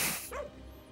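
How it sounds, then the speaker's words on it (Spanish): A single short cartoonish dog bark or yip from the Overcooked 2 cooking game on Nintendo Switch, rising and falling in pitch, heard briefly over game background sound. "Claro, los perros dicen ¡wow!"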